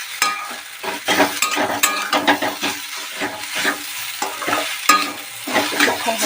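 Semolina for spicy Bengali jhal suji is stirred as it fries in a pan. A spoon scrapes in steady, repeated strokes over a constant loud sizzle, heard close with no talking.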